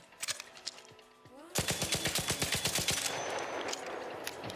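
Automatic gunfire in the video game ARC Raiders during a recoil test, a few scattered shots followed by a rapid, even burst of many rounds, loud and close, with no talking.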